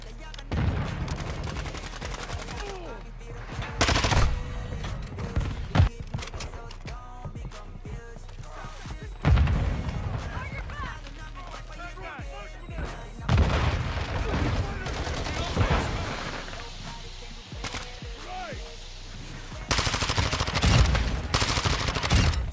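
Call of Duty: Modern Warfare 2 gunfire, loud automatic bursts and single shots in repeated waves with short lulls between, with occasional booms and background talk.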